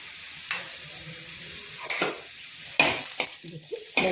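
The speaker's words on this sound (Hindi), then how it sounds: "तो जैसे लहसुन पकेगा तो हम डालेंगे जो मेरा पालक का पेस्ट" Garlic fries in a pan for spinach dal, a soft steady sizzle broken by several sharp scrapes and clinks of a utensil stirring against the pan, close-up with no talking.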